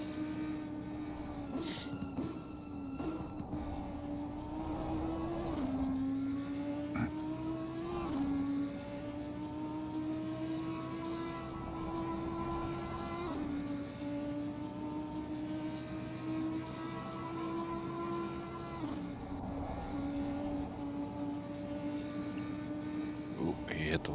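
An Audi race car in a racing simulation at Bathurst drones steadily up close, its engine tone climbing and dropping through gear changes and throttle lifts, while voices talk quietly underneath.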